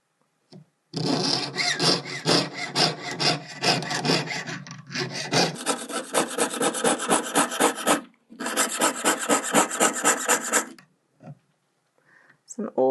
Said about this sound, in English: So I'm just going to pierce this out using my jeweler's saw